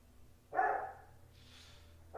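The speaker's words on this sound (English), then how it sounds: "As a dog barks." A dog barks once nearby, a muffled woof, followed after a pause by the start of a second bark.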